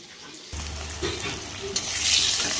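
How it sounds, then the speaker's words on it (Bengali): Fish head frying in hot oil: a steady, bright sizzle starts abruptly after a brief quiet moment, then continues close and loud with small spatters, swelling slightly toward the end. "মাছের মাথাটা ভাজা হয়ে গেছে"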